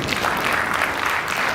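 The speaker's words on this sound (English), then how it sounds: "A big round of applause." A conference audience at a mining and energy event in a Kampala hotel applauds, producing a dense, loud, continuous wash of clapping close by throughout.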